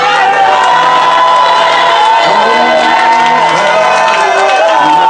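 A church revival congregation roars with loud sustained shouts of joy, cheering and whooping together as a dense crowd with voices layered throughout.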